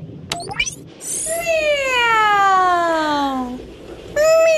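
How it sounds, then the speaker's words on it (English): A ringtone plays a long, drawn-out cat meow that slides downward in pitch, preceded by brief chirpy notes, with another meow starting at the end. "Granny's ringtone sounds like a kitty cat meowing."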